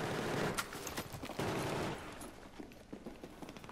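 Rapid bursts of gunfire crackle at a moderate distance in Battlefield 4, a dense fusillade that thins into scattered, fainter shots toward the end.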